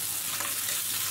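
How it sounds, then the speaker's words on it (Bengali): Chopped onion sizzles in a hot pan with a dense, even frying hiss and crackle, steady and close for the whole moment. "এখানেও আমি পেঁয়াজ কুচি দিয়ে দিচ্ছি।"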